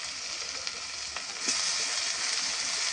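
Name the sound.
chicken frying in mustard oil with onion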